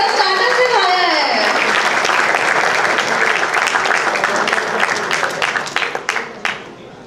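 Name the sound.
audience applause welcoming Mahesh Thakur on stage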